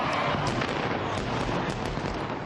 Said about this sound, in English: to get a really good fireworks show